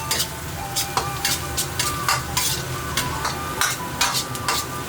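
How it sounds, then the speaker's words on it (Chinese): Ginger, scallion and garlic stir-fried in a little oil over low heat, with a steady soft sizzle and repeated scraping spatula strokes against the wok at a brisk, uneven rhythm, close by. "留一点点低油，开小火，好下姜葱蒜，要炒香"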